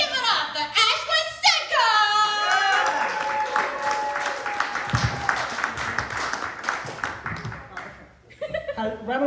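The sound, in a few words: audience applause for comedian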